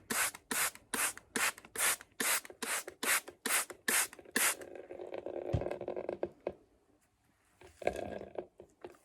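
Wet sponge squeezed in bursts, a rapid series of about ten short rubbing, squishing spurts of water close up, then a quieter, looser trickle and drip with a few small knocks.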